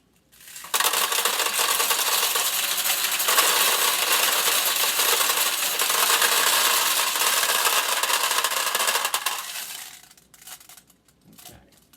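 Steel balls pour through a Nishijin Model A pachinko machine in a dense, loud, continuous metallic rattle and clatter for about nine seconds, then thin out into a few scattered clicks.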